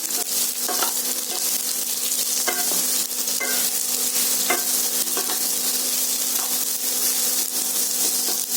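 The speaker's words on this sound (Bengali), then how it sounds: "দু তিন মিনিট আমি একটু নাড়াচাড়া করে নেবো।" Ridged gourd fries in a pan under a constant, loud sizzle, while a utensil stirs it with scattered scraping clicks and taps, close up and with nobody talking.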